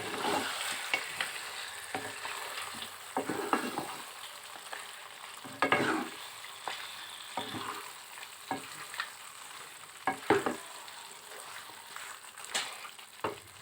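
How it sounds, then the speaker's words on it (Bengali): Chicken pieces in a spiced masala are stirred around a hot pan, giving a soft background sizzle broken by scraping stirs and louder clattering sweeps every few seconds, without any talking. "চিকেনের টুকরাগুলো দিয়ে এবার একটু নাড়িয়ে নিব।"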